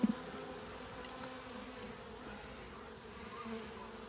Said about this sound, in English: we've got good coverage in this section here by all the bees